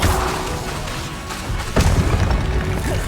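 A Confringo fire-blast spell in Hogwarts Legacy lands with a deep booming impact mid-fight, a loud thud followed by a rumbling tail over steady battle noise.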